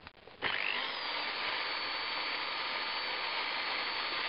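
Power drill bores a hole through a wooden board in a workshop, a close, loud, steady whirring grind that starts abruptly and holds without a break.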